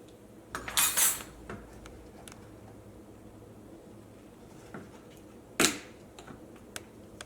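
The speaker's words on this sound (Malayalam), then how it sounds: "ഈ മുട്ട ഇതിനകത്ത് നന്നായിട്ട് മിക്സ് ആവണം കേട്ടോ" Egg being mixed into oatmeal chocolate cookie batter in a bowl, with a spoon giving two short bursts of clinking against the bowl, one early and one later, in an otherwise quiet room.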